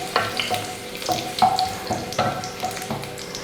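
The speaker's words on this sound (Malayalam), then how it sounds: "നമുക്ക് ഇതിനകത്തോട്ട് ഉണക്കമുളക് ഇട്ട് കൊടുക്കാം" Dried red chilies dropped into hot oil with popped mustard seeds in a pan for a ladies finger and tomato curry, giving a steady close sizzle with scattered crackles and spatter bursts.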